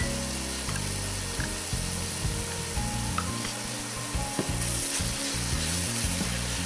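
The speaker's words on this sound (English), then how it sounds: "with the pancetta, and like I said, let it cook all the way until it's dry" Pancetta frying in a pan for bolognese sauce, giving a steady, fairly loud sizzle throughout with occasional scrapes and knocks of a utensil stirring it.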